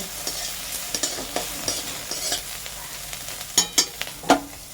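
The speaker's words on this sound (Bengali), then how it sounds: "ভালো করে ভেজে নিচ্ছি মাছগুলোকে সব মাছগুলোকে এভাবে ভেজে নিই" Prawns frying in oil with a steady hiss, broken by stirring scrapes and a few louder spattering pops toward the end.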